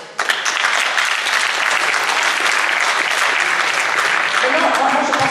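An audience at a constituent assembly meeting breaks into applause, dense sustained clapping that holds steady and close for the whole stretch, with a murmur of voices under it near the end.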